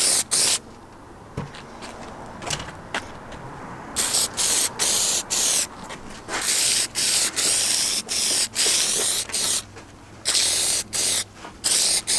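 Plasti Dip coating sprayed from an aerosol can onto plastic car trim, heard as a series of close, loud hissing bursts of a second or so each, separated by short pauses.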